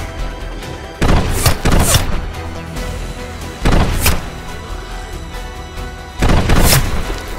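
Foam darts from a Nerf blaster fire at zombies in a big cardboard box fort during a Nerf war: three separate bursts of thumping shots, each lasting about a second, with quieter background between them.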